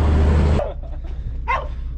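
A heeler dog gives a single short bark at moderate distance after a loud engine rumble cuts off, near trucks loaded with bales on a farm.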